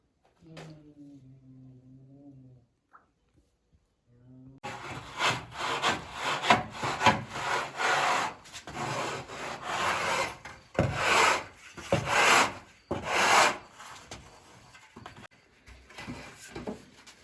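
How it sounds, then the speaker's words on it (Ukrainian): A screed rule is dragged across uneven, day-old concrete screed in a private house, producing loud, rough rhythmic scraping strokes close by; a quieter tonal hum precedes the grinding. "На другий день після заливки правилом е, зашліфовую все, що нерівно було"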